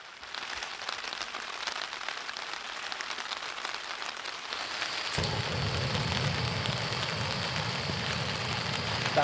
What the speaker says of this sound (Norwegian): Det noe helt eget når det bare bøtter ned, og du bare hører regnet slå mot duken.